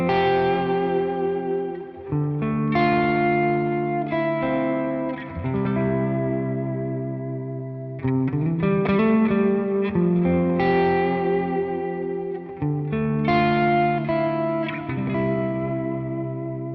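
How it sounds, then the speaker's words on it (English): Electric guitar played through a TONEX tone model with a heavy, overt plate reverb, chords and single notes ringing out in a thick wash of reverb, with distortion and chorus-like shimmer, loud and continuous with no talking. "if we bring that really overt reverb in here"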